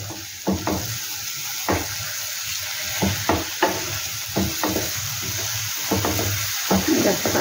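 Cashew nuts sizzle and fry in a pan over a low flame, a steady close crackle broken by repeated stirring scrapes; no talking.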